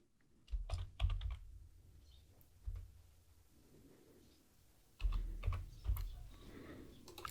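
Light, quick typing on a computer keyboard in bursts of clicks with short pauses, close and fairly quiet, with no talking.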